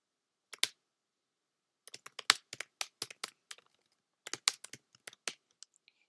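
Quick bursts of typing on a computer keyboard, close and crisp, with short runs of clicking keys separated by pauses and a few isolated taps near the end, no talking.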